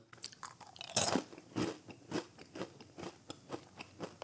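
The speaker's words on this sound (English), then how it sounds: "It's like that crunch of the caramel sugar covered popcorn on top of a cheese puff." A caramel sugar-coated cheese puff snack from Buc-ee's is bitten and chewed up close. Sharp crunches come at a steady rhythm, with one loud crackling bite near the start, and no talking.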